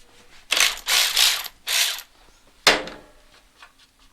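A cargo strap ratcheted tight to hold down the back end of a motorcycle gives several close, loud ratcheting pulls in a quick series, then a sharp click and a few fainter clicks.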